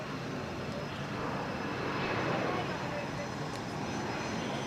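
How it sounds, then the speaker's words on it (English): Airliner rolling for takeoff on the crosswind runway at Zurich Airport, a steady broad engine roar heard from a distance, swelling slightly midway with no voices over it. "Summit's rolling on the crosswind runway."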